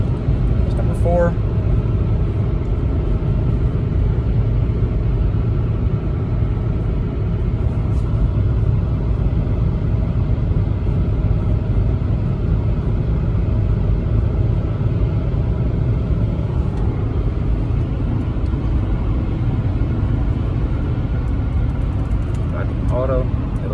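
Kia Rondo with a 4-speed automatic held in manual mode, a steady low engine and road rumble from inside the cabin, continuous and moderately loud, with a person talking over it.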